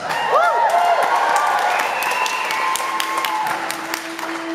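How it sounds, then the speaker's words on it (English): A concert audience at London's Barbican applauds and cheers in a steady wash of clapping with a few whoops, held for several seconds with amplified tones ringing underneath. "Yes, you could have given yourselves a better round of applause than that"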